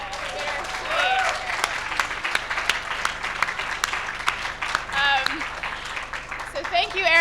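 An audience at the NYC Big Apps 2015 event applauds for Eric, with a loud, continuous wash of clapping and a voice speaking over it.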